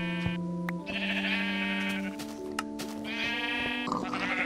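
Minecraft sheep, some of them dyed, bleat repeatedly in a farm pen, with several overlapping nasal bleats close by over a steady game background hum.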